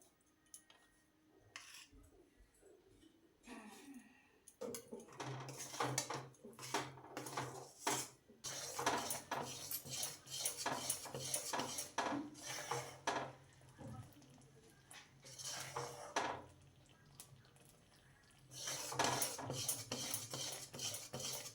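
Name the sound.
stirring date palm jaggery and khoya kheer in a pan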